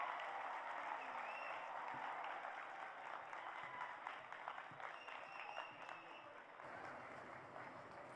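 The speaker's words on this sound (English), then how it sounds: "Once again, a big round of applause for Dr. Prakriti Poddar" Faint audience applause at the Global Summit of Science and Spirituality for speaker Dr. Prakriti Poddar. It is a soft, distant wash of clapping that carries on evenly throughout, with faint murmuring mixed in.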